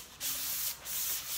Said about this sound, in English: sometimes you can take a little scraper too